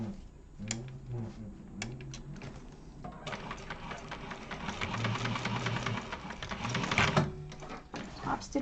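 A sewing machine top stitches a garment seam with a steady whirring needle run that starts partway through and continues at close range, after some lighter clicks and handling noises.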